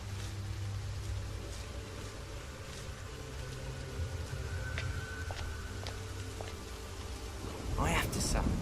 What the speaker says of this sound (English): Because all this rain is kind of making things choppy here.